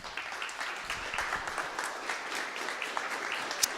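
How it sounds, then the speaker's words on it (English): An audience at a social media breakfast meetup in Minneapolis–St. Paul gives sustained applause, a dense, even patter of many hands heard faint and somewhat distant in the room. "let's Thank give you. them a round of applause"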